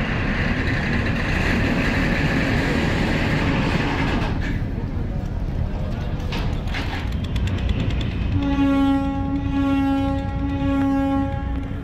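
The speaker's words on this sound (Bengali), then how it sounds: "এইদিকে ট্রিপল হর্ন মেরে 3য় নম্বরে ঘাট থেকে বেরিয়ে গেল শুভরাজ 9" The launch ferry Shubhraj 9 leaves the ghat at Barishal over a constant loud engine drone. Near the end, one steady horn sounds in three blasts.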